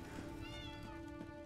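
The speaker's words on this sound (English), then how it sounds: "Oh, there's a cat in here." A cat meows in the video game Elder Scrolls Online, a soft tonal cry held steady over a faint hum of game ambience, close and moderately quiet, with no talking.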